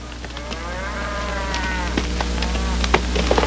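A cow moos repeatedly in long, drawn-out calls over a steady low rumble, with faint scattered clicks and brief ticks around the lowing.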